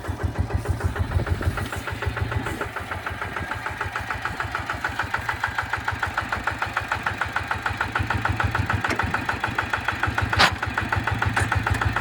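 A Kubota KRT140 4x4 small tractor engine runs steadily nearby, a rhythmic diesel chugging and knocking at an even idle-like pace that continues throughout without talk.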